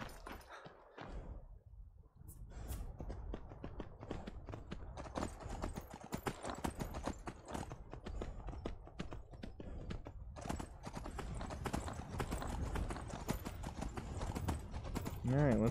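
A horse's hooves clip-clop steadily on the ground in the Skyrim VR video game, with a continuous rhythmic clatter running under a voice talking throughout.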